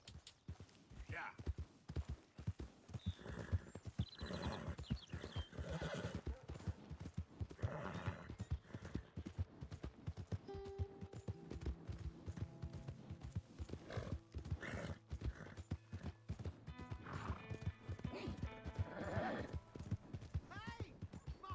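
Horse in the Red Dead Redemption video game, hooves clip-clopping in a steady rhythm with occasional neighs, mixed with game music and spoken dialogue throughout.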